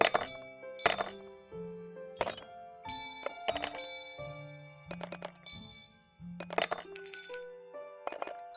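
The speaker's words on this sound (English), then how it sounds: "This is the only one that sounds like a real bell." Bell sound effects from the puzzle video game A Little to the Left, with a string of bright, ringing chimes struck one after another at varying pitches. Each strike is clear and close, with a short, glassy decay.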